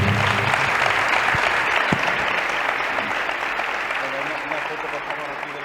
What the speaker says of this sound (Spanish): os pido un gran aplauso para ellos